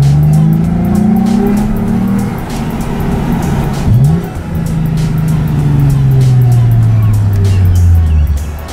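A 2007 Lexus IS 350 drives along with engine tone rising and falling through the gears, one quick rev partway through, loud and close, with a voice speaking over it.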